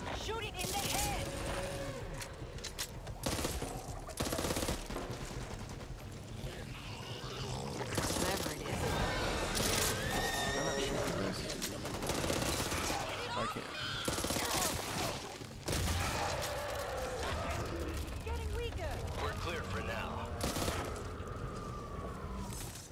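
Gunfire in the zombie shooter Back 4 Blood, with repeated loud bursts and shots amid chaotic game sounds, under and between people talking.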